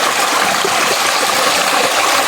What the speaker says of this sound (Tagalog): Dito tayo kukuha sa Umaagos.